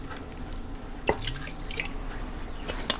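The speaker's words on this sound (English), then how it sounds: "I'm going to put a splash of vinegar." A short splash of vinegar poured into a pressure cooker during meal prep, a few brief drips and liquid patters standing out over quiet kitchen background.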